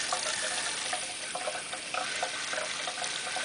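Water trickles and splashes inside a PC liquid-cooling waterfall reservoir in an Antec 1200 case while the loop is being filled. A steady, close gurgling stream with small bubbling pops runs throughout and no one speaks.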